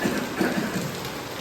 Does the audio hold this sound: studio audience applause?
no